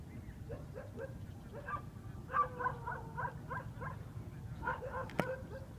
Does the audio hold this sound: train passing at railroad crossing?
no